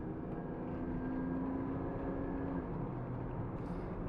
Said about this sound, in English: Got to see some planes up there flying around.